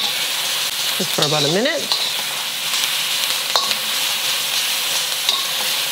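Bean sprouts fry in a hot pan after garlic, with a steady loud sizzle and brief scraping stirs. A whistling tone rises partway through, and a voice speaks briefly over the frying.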